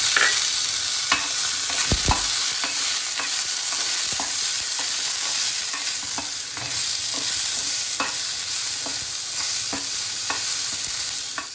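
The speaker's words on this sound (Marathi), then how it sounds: "टमाटो टाकते मी कांद्यामध्ये." Steady frying hiss fills the scene with repeated scraping stirs of a spoon through tomato and onion in a pan, close and continuous without any talk.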